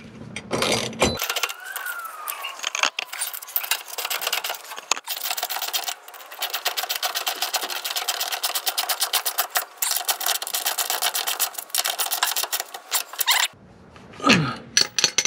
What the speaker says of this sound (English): I'm using a 9/16 nut, so I've got a 9/16 ratchet right here.